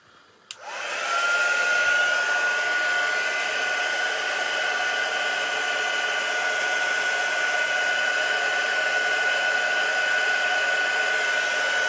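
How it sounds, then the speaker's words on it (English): After a click, a heat embossing tool roars on with a steady high-pitched whine and constant airy rush that continues unchanged to the end. "What we need to do is set this with a heat tool."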